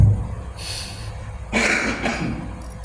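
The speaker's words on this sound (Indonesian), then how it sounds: "Sorry, saya masih agak batuk." Two short, breathy coughs close to the microphone, separated by a pause, over a low background hum.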